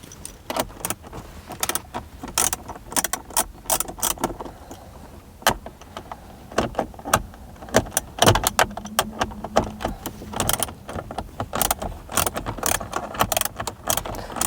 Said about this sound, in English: We're now going to remove these bolts holding this speaker on up top here